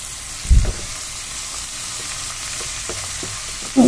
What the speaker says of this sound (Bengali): পেঁয়াজটা রসুনটাকে আমি ভালো করে ভেজে নিচ্ছি